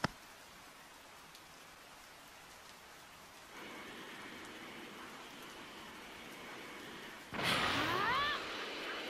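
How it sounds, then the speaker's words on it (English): Steady rain falling in the Dragon Ball Z Kakarot video game, a constant soft hiss that grows louder partway through, joined near the end by a brief brighter burst of sound, with no voices. "The rain is the only sound you need to hear."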